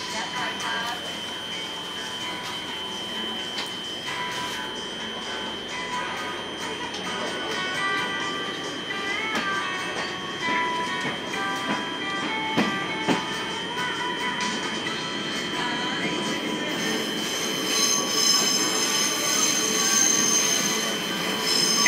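A Heisei Chikuho Railway sightseeing train departs Tagawa-Ito Station, rolling along the rails with steady rumble, wheel squeals and occasional clacks, gradually growing louder, with faint voices in the background.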